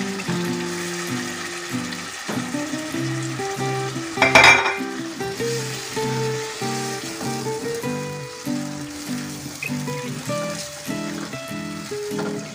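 Beef sizzles and fries in a pan of yellow spice paste while being stirred, with a steady crackle, scraping of a utensil and occasional clinks of cookware close by.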